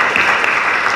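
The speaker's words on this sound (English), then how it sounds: "And big round of applause for our colleagues." Audience at a GRC technology summit applauding colleagues, a dense, loud wash of clapping that fills the short moment without pause.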